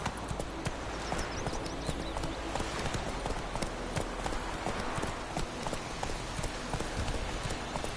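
Roach the horse gallops in The Witcher 3, hooves clip-clopping in a steady, rapid rhythm over continuous ambient game sound, close and moderately loud throughout.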